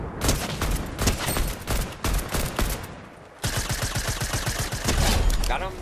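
Video game shooter gunfire: loud, rapid bursts of automatic fire that pause briefly and then resume in dense volleys.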